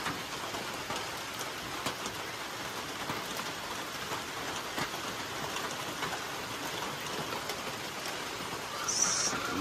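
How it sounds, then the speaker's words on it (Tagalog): Rain falls steadily on a farm, a soft, even hiss of drops on surfaces heard close and quiet, with no talking. "umuulan na."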